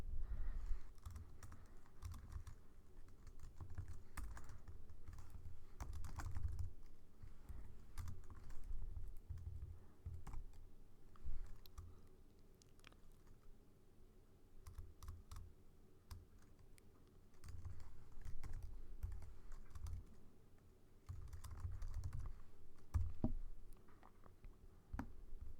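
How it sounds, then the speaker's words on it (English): Typing on a computer keyboard while writing Java code, with a fast, steady stream of close, crisp key clicks and occasional heavier strokes, continuous for over twenty seconds with no talking. "I'll just type it."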